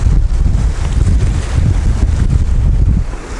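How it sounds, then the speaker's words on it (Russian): Strong, steady wind at a riverside tent camp, loud close buffeting and rumbling against the microphone, continuous for a few seconds with no talk. "Ветер так и не перестает, как со вчерашнего дня дует."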